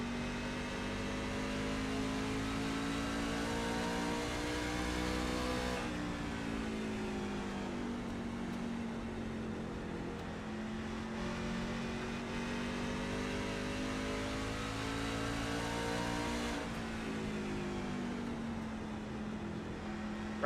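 Race trucks racing at Richmond Raceway, a steady engine drone with pitch that rises and falls as they run the laps, with gear-change drops at intervals and no talk.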